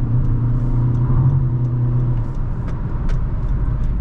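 A Honda WR-V RS with a 1.5-litre engine is driven and overtakes, giving a continuous low engine rumble and road hum heard from inside the cabin, with a few faint clicks.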